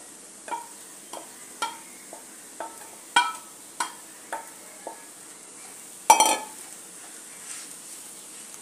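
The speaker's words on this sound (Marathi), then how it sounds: "आता सर्व मसाले आणि बटाटा एकत्र करून घेऊया। हे सगळे एकजीव करून घेऊया।" A utensil stirs spices and crushed potatoes together in a pan, giving a series of about a dozen separate scraping clinks at a slow, uneven rhythm, with one louder clatter near the end, close and alone.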